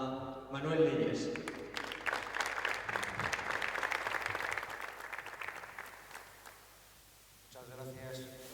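An audience at a basketball clinic on knee injuries applauds to welcome a speaker, a sustained wash of clapping from a room full of people that fades out before a voice begins.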